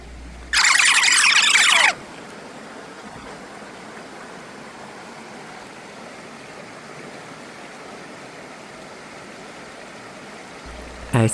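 Rinsing a striped rock in the Rose River, Virginia, on a rainy day: a steady stream-like wash of water runs through the whole stretch, with a brief louder gush of splashing near the start and no talk.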